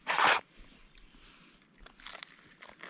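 Teeth bite into a piece of crunchy charred steak with one sharp crunch, followed by quieter crackly chewing and crinkling noises close to the mic.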